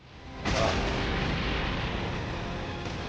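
Explosion in the video game Dragon Ball: The Breakers: a sudden loud blast bursts in and then holds as a broad, roaring rumble that slowly fades over a few seconds, with no talk.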